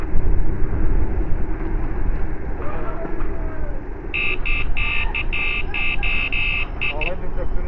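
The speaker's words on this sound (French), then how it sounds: "Arrête de klaxonner, ça va faire trop laid." A Sunnigoo N3Max scooter horn sounds in a run of short repeated honks during a forest ride, heard over constant wind and motor rumble while people talk in French.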